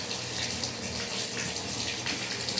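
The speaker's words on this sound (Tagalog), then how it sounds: "lalagyan muna natin ito ng tubig" Tap water gushes steadily into a basin being filled for washing laundry, a continuous close, full splashing rush with no talking.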